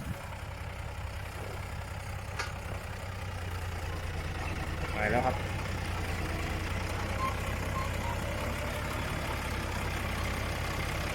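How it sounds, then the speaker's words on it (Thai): A heavy six-cylinder 7840 tractor engine idles with a steady, low rumble throughout, close by, while someone talks briefly over it. "ผมชอบเสียงเครื่องมากเลยนะ เครื่องดังไม่เหมือนรถไถเลยอะ ดังนุ่มมาก นิ่มมาก"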